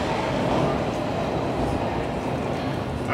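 Eastbound Toronto subway train pulling into Bloor-Yonge station, a loud, steady rumble of wheels and motors filling the platform for a few seconds without pause.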